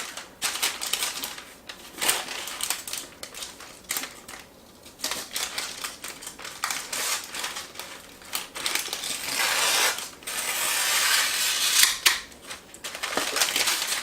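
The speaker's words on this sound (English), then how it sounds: "I take an X-Acto knife and run it along the edge" An X-Acto knife scrapes and slices through parchment paper along the edge of a baking pan for lemon bars, with a busy run of crisp cutting and rustling at close range.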